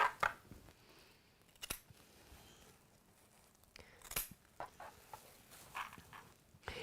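Scissors cutting off a marked one-inch square of quilting fabric at a sewing table, a few sharp, separate snips among quiet handling noises, close and fairly soft.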